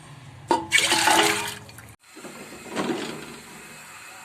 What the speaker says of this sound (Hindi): ये मैं 1 लीटर के करीब इसमें पानी डाल रही हूँ।